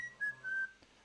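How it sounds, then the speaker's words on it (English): A person whistles a short melodic phrase of two sustained notes, clear and fairly close, with no talking. "So there's the person whistling."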